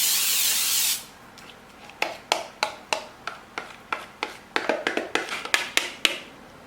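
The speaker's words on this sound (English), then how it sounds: "we are just going to spray it with this Baker's Joy spray" Baker's Joy baking spray hisses in one short, loud burst into a pie dish, followed by a run of sharp, close taps and clicks.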